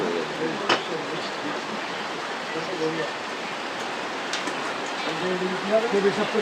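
Steady rain hisses over a small market on the Sundarbans coast, a dense, even wash of noise throughout with a couple of brief sharper knocks, and faint voices murmuring underneath.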